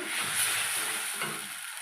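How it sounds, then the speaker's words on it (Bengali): Masala paste frying in oil for an egg, potato and eggplant dish makes a brief, steady hiss and sizzle, close and even, with a faint scrape of stirring and no speech. "মশলাটা আমার ভালো কষা হয়ে গেছে, এই যে এবার মশলাটা তেল ছেড়ে দিয়েছে"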